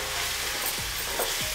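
Mashed jackfruit being stirred and fried in a pan over a low flame, a soft steady sizzle broken by a couple of scraping stirring strokes, close and alone.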